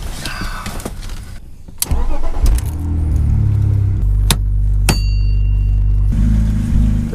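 A BMW E46 325 drift car starts up, with a few clicks and jangles first, then a deep, steady engine rumble settling into a loud, close idle.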